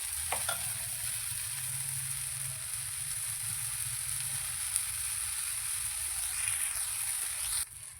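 Uttapam batter sizzles and fries in a pan as it is flipped and roasted, a steady close crackle with a few light scrapes before it stops near the end.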